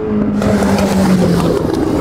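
A Formula 1 race car engine at full throttle, a loud sustained close-up roar with a steady droning pitch, with no talking.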